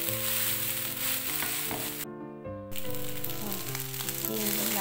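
Rice with egg fries in a pan, a steady close sizzle running throughout with a brief drop near the middle, and no talk.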